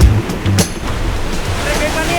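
Surf washes in at a hidden beach in Bali with a steady roar of breaking water, loud and close.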